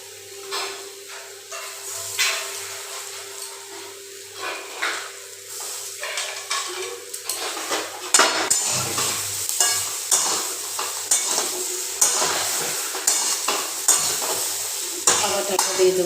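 Eggplant, potatoes and green banana are stir-fried in a hot pan for catfish curry, with a continuous sizzle and repeated scraping stirs of a utensil against the pan that grow busier and louder partway through. No talk.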